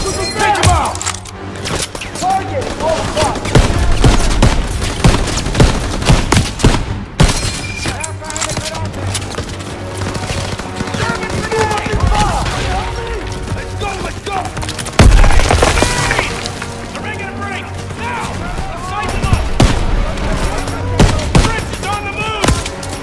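Machine gun fire from a second-floor position rattles through a Call of Duty WWII firefight in repeated bursts, loud and close, amid explosions and impacts while soldiers shout over the din.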